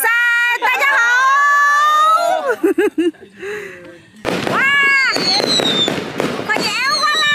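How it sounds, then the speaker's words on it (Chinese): Fireworks go off at an outdoor long-table feast. Excited voices shout at first, then a rapid string of loud pops and crackles bursts out as people cheer. "把烟花啦！"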